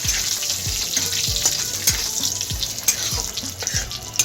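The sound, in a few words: whole spices tempering in oil on high flame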